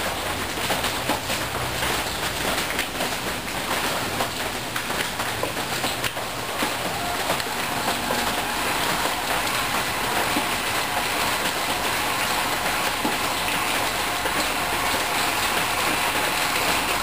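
A pedal-driven bicycle pump that lifts water and generates electricity produces a loud, continuous mechanical whir and rushing noise, steady throughout without breaks or speech.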